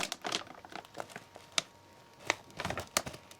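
A sturdy ReadyWise emergency-meal pouch of beef stroganoff is cut open and handled, giving a few sharp, close snips and crinkles of thick foil packaging spaced irregularly over quiet background.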